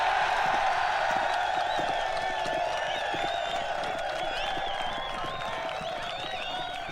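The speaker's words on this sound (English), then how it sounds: "Cheering for the servants of Sarevok?" A crowd cheering in Baldur's Gate: Siege of Dragonspear, a steady wash of many voices and scattered clapping that holds for several seconds and fades slightly toward the end.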